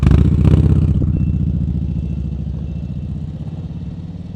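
Motorcycle engine at low revs during slow-speed riding practice in first gear, a steady close putter with a brief blip at the start, easing slightly quieter over time.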